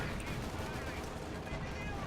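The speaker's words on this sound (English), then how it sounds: "there's that much gunfire going on, I can barely hear you" Dense, continuous gunfire in the video game Company of Heroes 2, Hurtgen Forest map, with rapid overlapping shots, loud and unbroken throughout, like a chaotic battle scene.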